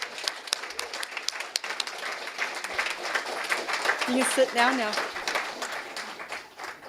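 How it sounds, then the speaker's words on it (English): Applause for graduates at an ISD graduation ceremony, a moderate, scattered crowd clapping heard beneath a nearby speaking voice. "So everyone, give them great big rounds of applause"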